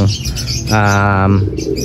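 Racing pigeons in a loft give a steady, close run of soft throaty coos, alone with no talk, the cooing swelling in the middle before easing off.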